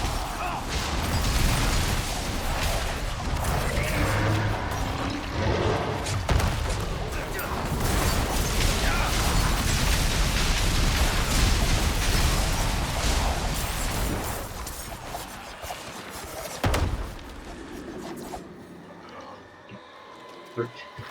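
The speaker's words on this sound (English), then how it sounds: "these explosions, I wish Spiritborn had like a sound effect like that for some of their skills" Rogue Shadow explosions in Diablo IV combat, a dense, sustained barrage of booming bursts and crashing impacts that rolls on for most of the stretch, then thins to sparse hits near the end, with talk over it.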